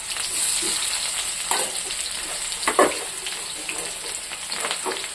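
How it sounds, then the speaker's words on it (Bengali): Onions hit hot oil in a wok and fry with a steady, close hiss, broken by a few louder crackles and stirring scrapes. "কড়াইয়ে তেল গরম হয়ে গেছে, এখানে দিয়ে দেবো পেঁয়াজ,"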